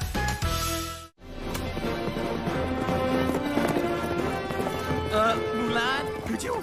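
A horse galloping in the animated Disney film Mulan: steady clip-clop of hooves under an orchestral music score, with voices talking over the ride.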